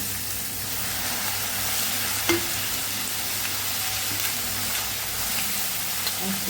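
Vegetables stir-frying on full flame for hotel-style fried rice, a loud continuous sizzle with an occasional clink of a spatula against the pan, close and unbroken.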